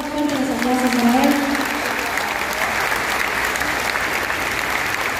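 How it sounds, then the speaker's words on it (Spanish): A concert audience in a theatre applauds loudly and steadily for several seconds, with a voice calling out briefly near the start over the clapping. "Fuerte los aplausos para él."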